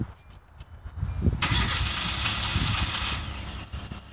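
A new blue car's engine cranks and catches, then settles into a steady idle, close by and fairly loud with no talk over it.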